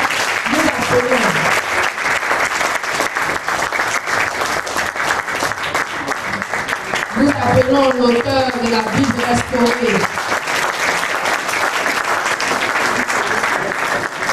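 Loud audience applause greeting an author at a book dedication in Duekoue, steady clapping throughout while a voice speaks over it through a microphone.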